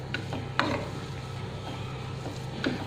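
A mashed beetroot mixture with corn flour being stirred, giving a few sharp scraping clicks at irregular moments over a steady low background hum.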